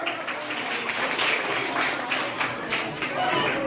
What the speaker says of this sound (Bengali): ভেরি গুড, এর জন্য হাততালি দাও।